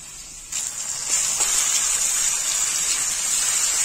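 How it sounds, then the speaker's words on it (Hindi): Water is poured into a hot pan of masala with garam masala and red chilli for a cabbage curry. A sudden hissing sizzle starts and then holds steady and fairly loud. "अब हम इसमें थोड़ा पानी डालेंगे, इसको मिला लेंगे।"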